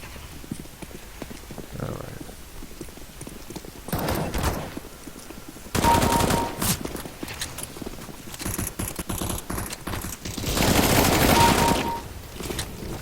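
Rapid gunfire bursts from CS:GO gameplay, with several loud automatic volleys at intervals over a steady background of clattering game sound, including a horse-like clip-clop rhythm.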